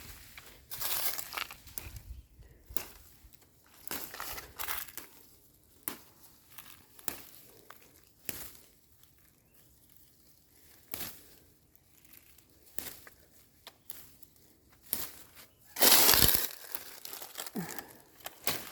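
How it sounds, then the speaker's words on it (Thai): Irregular crunching and crackling of dry leaves underfoot, bursts of loud crinkling separated by quieter pauses, close to the microphone. "เหยียบใบไม้แห้งพี่น้องดังกรุบขาบคุบขาบเลยนะ"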